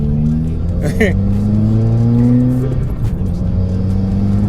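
A 2020 Subaru WRX fitted with a Group N transmission mount and Whiteline positive shift kit accelerates hard, its engine note rising steadily from inside the cabin, loud and close, with someone talking over it.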